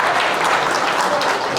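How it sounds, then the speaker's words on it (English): A tailgate gala crowd applauds after a Q&A with Creed Humphrey. The burst of clapping is close, loud and thick, with cheering voices mixed in, and it lasts only a moment. "Let's give a round of applause for all of our questions."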